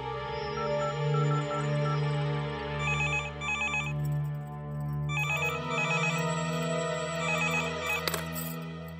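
A telephone rings with a repeating electronic ringtone in short patterned bursts, clear and fairly close, in a scene from a Hindi-dubbed South Indian action film.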